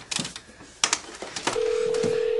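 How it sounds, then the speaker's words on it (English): A company desk telephone goes through dialing clicks and keypad tones, then a steady ringback tone purrs on for about a second in a quiet office. "Oh, come on, Bob, pick up. This is why we have a company phone, so you can help me"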